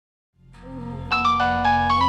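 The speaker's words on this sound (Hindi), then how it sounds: "सोबिया का फोन।" A phone ringtone starts with a low tone, then a bright electronic melody of repeated chiming notes plays close and loud, with no voices.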